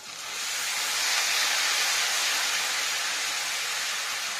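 A fish curry mixture with onion greens, poured into a hot pan, gives a broad, loud, steady sizzling hiss that swells quickly and holds evenly throughout.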